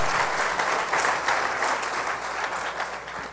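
A church congregation applauding together, a dense, continuous patter of many hands clapping at once, fairly loud and steady throughout, with no speech over it.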